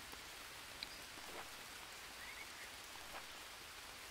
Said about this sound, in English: I think the rain should be filling it up.